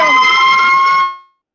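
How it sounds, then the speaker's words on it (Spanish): An emergency vehicle siren blares at full volume as it passes, a loud steady wailing tone that holds for about a second and then quickly fades away. "Está ahí pasando una sirena a todo lo que da."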